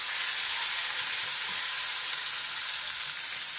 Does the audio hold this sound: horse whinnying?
no